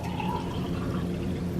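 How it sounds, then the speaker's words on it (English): Water pours steadily into a cup holding a plant cutting, a short continuous trickle heard close up and alone. "I'm just gonna pour the water in"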